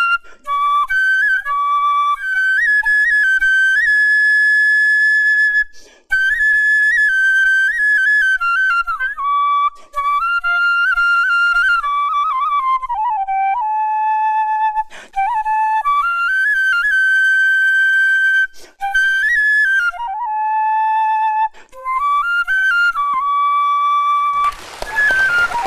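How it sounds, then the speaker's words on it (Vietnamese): A bamboo flute plays a melody on a stage show, clear sustained notes with bends and short breaks between phrases, played solo and loud with no talking. "Cái tiếng sáo nó ma mị quá."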